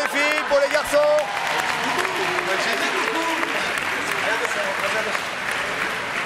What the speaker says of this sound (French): Applaudissements évidemment pour toute cette équipe formidable et pour Patrice